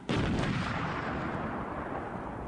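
An APOBS mine-clearing line charge detonates in one sharp, loud blast, followed by a long, broad rumbling roar that slowly fades.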